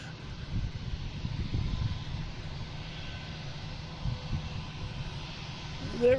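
A British Airways airliner takes off at Boston Logan International Airport, giving a steady broad engine roar mixed with wind noise, distant and even in level across the whole stretch.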